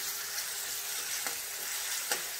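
A ginger, coriander and garlic paste sautés in a pan, giving a soft, even hiss with two brief scraping stirs, close and quiet, with no voices.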